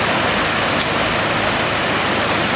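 Water rushes steadily in a loud, continuous broadband hiss, like a nearby stream or small cascade flowing without pause, in the rainy-season forest village of Ban Mae Kampong, Thailand.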